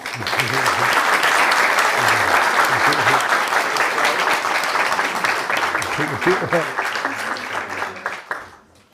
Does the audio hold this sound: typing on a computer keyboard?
no